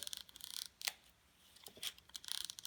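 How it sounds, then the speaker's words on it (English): Vintage carpentry tool ratcheting in a few short, bright clicking bursts, close and fairly quiet, separated by brief pauses. "And also hear the ratcheting noise"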